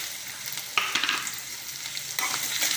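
Chutney ingredients, including mint, sauté in oil in a home kitchen pan with a close, steady sizzle and sharp stirring clatters at intervals, no voices.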